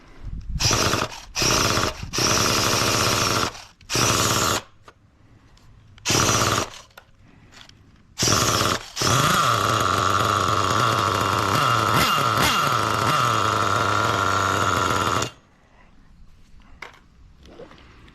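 A nitro engine with a freshly tuned carburetor, running slightly rich, fires in several short loud bursts, then catches and screams steadily for about six seconds before cutting off.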